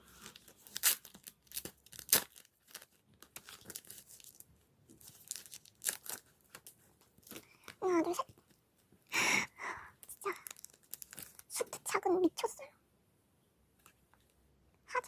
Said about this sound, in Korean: 이것도 뜯어볼게요